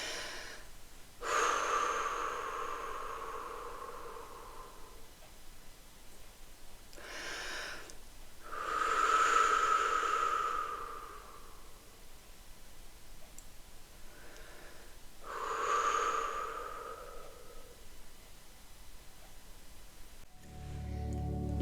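Slow, deep breaths during a guided meditation, each long inhale or exhale rising and fading with quiet pauses between, four clear breaths in all, close and soft, with no talking.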